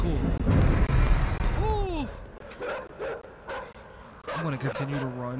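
Dogs in the video game INSIDE bark and yelp in several sharp, loud bursts amid thudding, rumbling game sounds, with someone talking excitedly over them.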